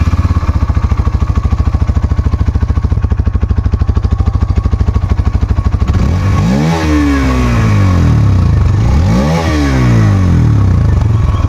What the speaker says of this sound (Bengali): এবার চলুন বাইকের এক্সস্ট আওয়াজটা শুনিয়ে দিই।